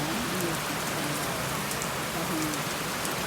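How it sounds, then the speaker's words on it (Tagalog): Heavy rain pours steadily in Cavite, a dense, even hiss of drops drumming on surfaces close by, continuous for the whole stretch with no voices. "malakas ang ulan ngayon dito sa amin sa Cavite"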